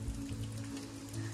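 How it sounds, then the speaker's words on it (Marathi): Rain falls in sunshine over a Konkan village, a soft, faint patter with a low steady hum beneath it. "हे ना पाऊस आहे पाऊस."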